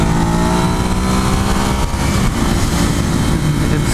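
A Ducati Hypermotard 821 motorcycle pulls hard under acceleration, its engine droning loud and close with a steady, dense roar that holds throughout.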